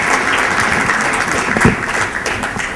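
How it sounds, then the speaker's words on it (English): Audience at an ASEAN business forum applauds the panelists, a loud, steady and dense burst of clapping from many hands filling the room throughout. "and give them a round of applause."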